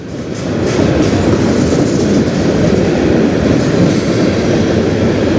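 A freight train passing on the Strathroy Subdivision: a loud, continuous rumble and clatter of wheels on rail, steady and close for the whole stretch.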